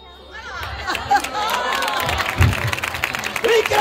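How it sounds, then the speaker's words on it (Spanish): Audience applause and cheering after a comic magic trick with a bag and an egg, building from quiet into sustained clapping and crowd chatter, with voices calling out over it. "¡Un aplauso a la gallina turuleta y a la jueza Membrillo!"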